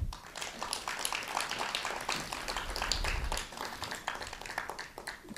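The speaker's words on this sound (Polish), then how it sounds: "Proszę o brawa." An audience at a Połczyn-Zdrój culture day event gives a round of applause, a fairly faint, steady patter of many hands clapping from a distance.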